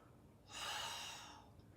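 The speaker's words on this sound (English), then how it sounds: "it does not sound like this with a forceful push in and out through the mouth" One forceful, breathy exhale through the mouth, close and brief, rising and fading over about a second in an otherwise quiet room.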